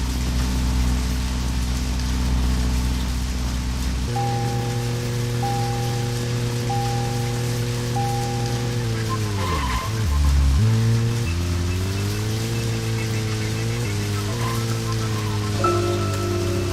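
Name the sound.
rain in woods, from the video game Deadly Premonition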